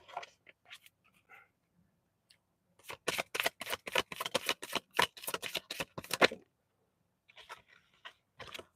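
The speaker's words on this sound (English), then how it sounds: "I'm gonna pull some of these neon love cards." Neon love tarot cards being shuffled, a rapid run of crisp riffling flicks for about three seconds, with a few softer card taps and handling sounds before and after in an otherwise quiet room.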